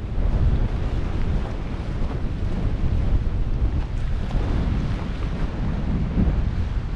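Strong wind gusts across a microphone outdoors in a backyard in Argentina, a loud, continuous roaring buffet with low rumbling pulses and no talk.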